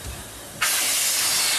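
Steam hisses loudly and steadily from Penchurch, a Terrier steam locomotive, bursting on abruptly after a quiet moment and holding as a broad, bright rush.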